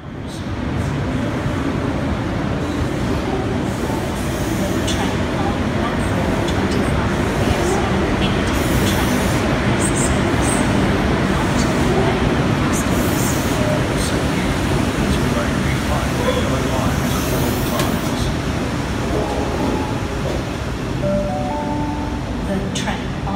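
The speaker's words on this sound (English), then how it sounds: "That was S140 and S141 on an empty train through platform 6 at Redfern." An empty Sydney Trains set, S140 and S141, runs through platform 6 at Redfern station, producing a loud, steady rumble and roar that holds evenly for the whole stretch without fading.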